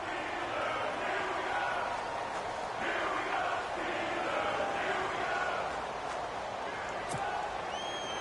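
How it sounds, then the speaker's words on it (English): Football stadium crowd in a video game, a steady dense roar of fans that swells into louder cheering ahead of a big third down, with a commentator talking over it. "the crowd getting into it as we come up on a big 3rd down"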